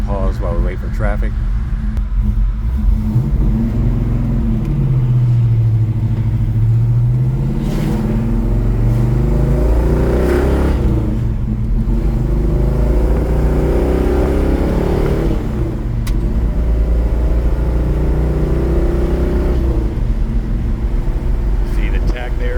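A 1967 Pontiac GTO with a 389 engine, twin four-barrel carburetors and a four-speed, rumbling loudly as it accelerates on the road, a deep steady drone with rising pitch sweeps, with a voice talking over it.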